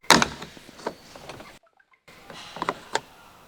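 The rear left door of a Ford F-series pickup truck opens, with a latch click, a few clunks and rattles, a brief silence and then more handling knocks nearby.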